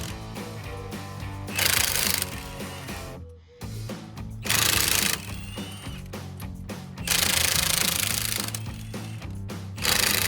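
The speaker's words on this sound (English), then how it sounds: "We need to take the wheel off. So spline sockets." Power tools with spline sockets remove the wheel lug nuts on a 2005-2013 Corvette C6 ZR1. Three loud, close bursts of harsh rattling whir are separated by quieter mechanical humming.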